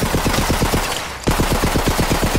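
A rapid-fire gun in Borderlands 3 sprays rubber pellets in a loud, close burst of evenly spaced shots, pauses for a moment, then fires another quick burst.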